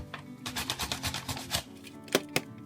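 Onions are sliced quickly on a mandolin slicer, a rapid run of close, crisp rhythmic strokes followed by a pause and two sharper final cuts, with no talk.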